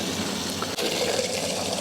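An outdoor tap on a hiking trail runs water into a bottle, a steady, close gushing flow that cuts off abruptly at the end, with no talk.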